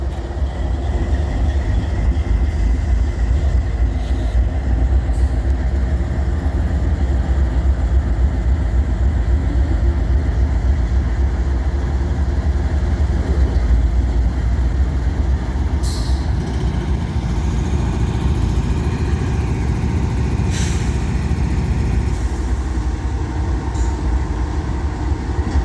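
A stalled train's engine idling on a hill while it builds air, a continuous low diesel rumble with a few brief hissing bursts of air over it, steady and fairly loud throughout.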